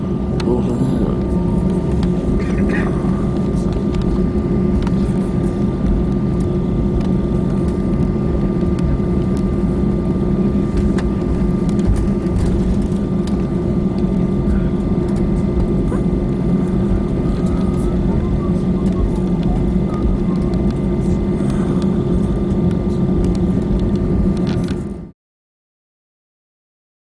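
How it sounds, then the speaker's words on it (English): An airliner taxiing around a wintry London airport before takeoff, heard from inside the cabin after de-icing: a steady, loud low engine rumble and hum fills the whole stretch, with faint murmurs of voices underneath. "we're going to have a little run around the airport for the moment, get the ice off the wings."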